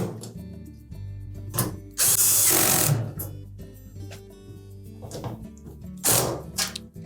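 Power screwdriver driving screws into a Samsung dryer panel during thermal fuse replacement, several short bursts of whirring with a loud sustained run in the middle and another near the end, separated by quiet handling sounds.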